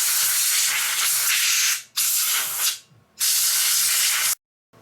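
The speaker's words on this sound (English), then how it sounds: "It's best to blow the motor with compressed air after you're done with cleaning." Compressed air blasts through a cleaned BMC electric bike hub motor in three loud, close, roaring hiss bursts separated by short pauses, ending abruptly.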